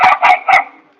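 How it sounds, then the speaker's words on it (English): Several dogs bark excitedly at another dog passing by, three loud sharp barks in quick succession that then trail off into quiet. "So we've got these dogs are getting excited, upset because this other dog just walked by."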